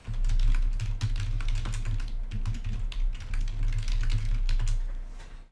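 Rapid typing on a computer keyboard, a steady stream of close, dense key clicks over a low constant hum, with no talking.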